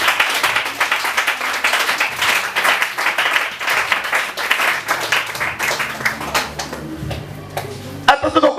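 A church congregation claps loudly and continuously in a fast, dense patter, with voices shouting and cheering through it, before the clapping thins out near the end.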